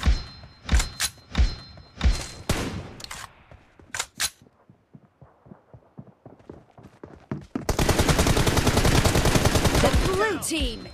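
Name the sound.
gunfire in the video game BGMI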